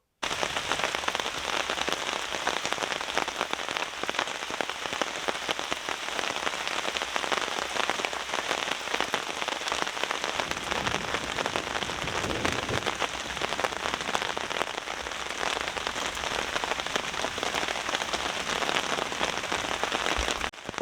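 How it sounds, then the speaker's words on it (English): Steady rain patters on an overhead tarp at a bushcraft camp during a thunderstorm, a dense, even drumming that continues without a break and no voices. "I've woken up to the sound of the rain on the top"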